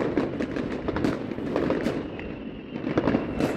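New Year fireworks in the Netherlands, a dense run of crackling pops and bangs at varied distances, moderately loud, with no voices over them.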